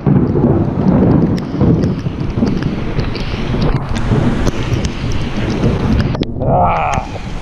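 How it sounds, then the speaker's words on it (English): An outdoor thunderstorm with lightning: heavy rain and gusting wind buffet the microphone while loud thunder rumbles through, ending with a brief lull and a sharper crack near the end; no one speaks. "Thunderstorms, the whole nine."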